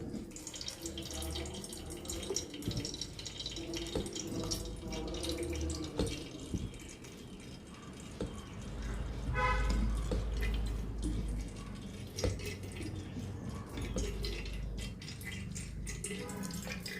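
Water pours steadily over grated raw cassava and drains through into a vessel below, a continuous close splashing and trickling with drips that swells louder midway.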